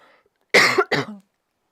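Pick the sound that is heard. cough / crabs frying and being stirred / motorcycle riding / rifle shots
cough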